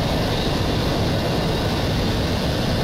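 Steady, loud drone of a propeller aircraft engine in a combat flight game battle on a European province map, continuous and unbroken throughout with no talk.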